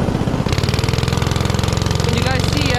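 Go-kart engine at a karting track in Pakistan, a loud, steady, rapid throbbing drone heard close up, with people's voices faintly mixed in.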